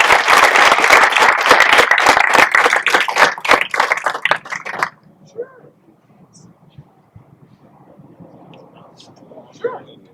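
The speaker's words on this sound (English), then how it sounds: "let's give a big round of applause" A group gathered at Roosevelt for the Rams' Cleats For Character program breaks into a loud, close round of applause that stops abruptly halfway through, followed by quiet background murmur and faint noises.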